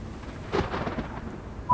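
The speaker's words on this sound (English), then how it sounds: "Oh, we got a bit of thunder as well by the sounds of it." Rumbling thunder in the Train Sim World game, one low broad roll swelling in the middle and fading over about a second, moderately loud with a faint rainy hiss behind it and no talk.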